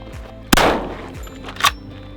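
A single loud gunshot fired at a cactus on open Texas ranch land, with a sharp crack and trailing echo, followed about a second later by a fainter second report or ringing impact.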